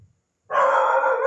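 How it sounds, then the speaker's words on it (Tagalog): A dog gives one loud, close bark that is drawn out into a sustained, harsh call after a short silence, with no other sounds around it. "Maingay yung aso namin."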